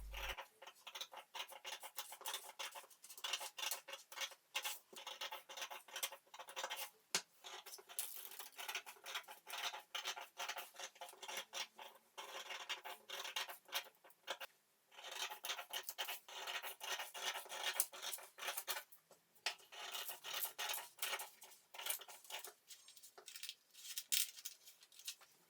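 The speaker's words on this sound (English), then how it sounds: "Next, cut out the patterns." Scissors cutting out paper sewing patterns for a bustier dress bodice, a continuous run of soft close crisp snips and paper rustles that carries on steadily with brief pauses throughout.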